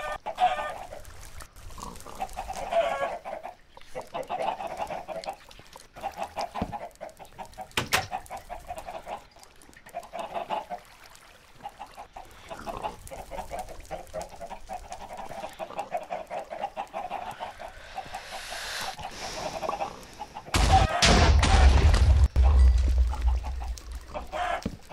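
Chickens clucking in Minecraft, repeated short bursts of clucks over a steady background, fairly close, ending with a louder burst of sound near the end.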